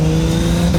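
A car engine hits its rev limiter and holds a steady, loud, buzzing drone with a slight stutter across a brief moment.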